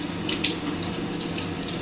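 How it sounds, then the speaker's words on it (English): Teaspoon rinsed under a running kitchen tap while baking crumb cake, a steady close rush of water with faint clinks of the spoon in the stream. "I do need the teaspoon for the vanilla extract, so I'll have to try to rinse this off as best I can."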